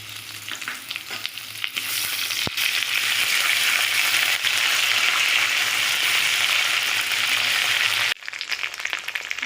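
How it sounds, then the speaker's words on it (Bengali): Ginger and green chili paste frying in hot oil with potatoes and tempering spices for a bitter gourd curry, giving a loud, steady sizzle throughout with occasional stirring scrapes and a brief drop near the end. "আদা কাঁচা লঙ্কাটা একটু ভেজে নিয়েছি"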